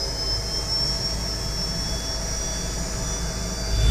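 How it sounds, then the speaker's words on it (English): A Cessna CJ2 business jet starts up close by, a steady high-pitched turbine whine over a low rumble that holds loud and even, building slightly at the end, with no voices. "There's a jet starting up right next to me."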